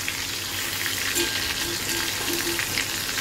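Loud, dense sizzle of fish frying in overheated oil, a continuous hiss with small bubbling pops throughout.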